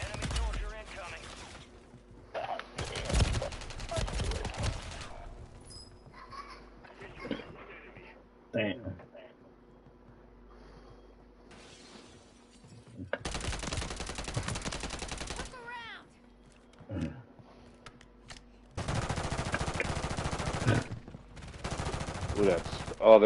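Video game gunfire comes in several loud, sustained bursts separated by quieter stretches, with a player talking between and over the volleys.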